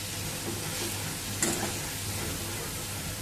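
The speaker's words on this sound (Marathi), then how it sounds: "कोबी आपल्याला या मसाल्यांसोबत चांगली अशी परतून घ्यायचा आहे" Grated cabbage being stir-fried with spices in a pan, a soft steady sizzle with a faint low hum beneath and one brief sharp clink of the spatula midway, no voices.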